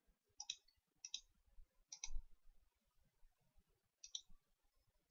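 A computer mouse gives sharp, close, quiet clicks in small double-click pairs with short pauses between them, alone in near silence.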